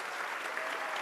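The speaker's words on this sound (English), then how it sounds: "Let's give her a big round of applause as well." A town hall audience at a Queens school claps for a student in a short burst of dense, even applause, heard faintly and from a distance.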